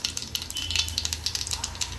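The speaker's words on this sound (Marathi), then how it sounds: "फक्त मोहरी तडतडून घेऊया." Mustard seeds crackle and pop in a little hot oil in a pan, a quick, irregular patter of sharp snaps at low volume, with no talking over it.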